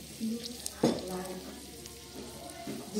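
Kebab sizzling as it fries in a pan at dinnertime: a steady soft crackle with a few louder pops and a brief clatter, close by, with low background sounds.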